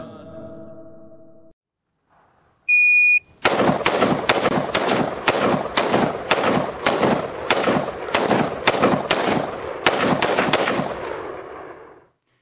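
Rapid bursts of Israeli Tavor rifle gunfire, about a dozen sharp, loud shots in a fast steady rhythm following a brief tone and a short pause, with no talking.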